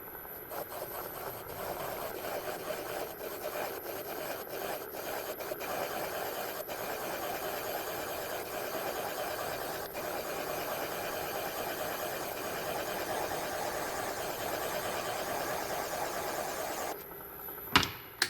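A valve seat cutter grinds a seat in a classic small-block Chevy double hump cylinder head, giving a steady, close, mid-level whirring drone that runs throughout and stops with a couple of clunks at the end.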